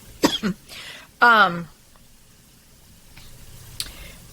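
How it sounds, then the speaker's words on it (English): A couple of short coughs and a throat clearing up close, followed by quiet room noise. "Oh, excuse me, coughing."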